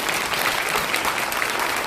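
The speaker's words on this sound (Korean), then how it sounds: "박수 한번 보내주시죠" Loud, close applause from a gathered crowd at an election-fraud rally event, dense continuous clapping filling the whole moment without talk.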